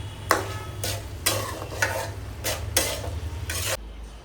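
Prawns frying with spices in a pan, close and steady, with a series of sharp spatula scrapes and stirs rising over the sizzle, then stopping near the end; no one speaks.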